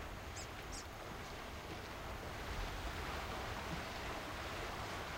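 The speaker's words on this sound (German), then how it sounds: "Der Waso Nyiro-Fluss." The Waso Nyiro river in Kenya's Samburu reserve rushes in a steady, broad wash of flowing water, constant and moderately loud, with faint brief bird chirps near the start.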